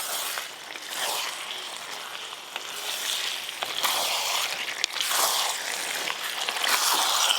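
Parboiled mutton hits hot fried spices in a pan and sizzles steadily, a dense hissing crackle that swells and eases as it is stirred, close and fairly loud.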